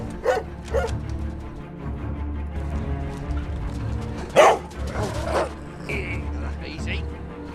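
Hunting dogs bark and yip in several short bursts, some sharp and close, scattered over a low background rumble, with a voice speaking between the barks.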